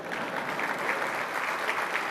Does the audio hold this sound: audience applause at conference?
yes